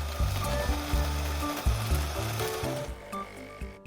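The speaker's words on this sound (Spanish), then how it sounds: "te diré que es algo ruidosa al moler el café" A KRUPS Sensation Milk automatic coffee machine grinding beans, a loud, close mechanical whirring with a rattling, ratchet-like pulse that holds steady for a few seconds before easing off.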